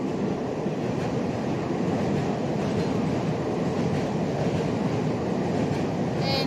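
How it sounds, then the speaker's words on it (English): A train rumbles past beside a lake with ducks, swans and other birds nearby, giving a continuous loud roar with faint rail clatter and no talk. "There's also a train that's coming right now."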